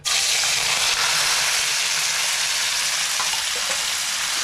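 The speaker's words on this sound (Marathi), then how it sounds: "कांदा वगैरे टाकून घेतो आणि त्यामध्ये कधी पत्ता सुद्धा टाकून याला त्या फ्राय करून घेणार" Onion and curry leaves frying in hot oil for a wild mushroom curry, giving a loud, steady, dense crackling sizzle that runs continuously with no talking.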